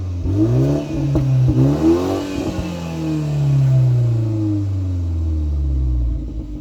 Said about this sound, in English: Go ahead, Lauren, let's get some rev time.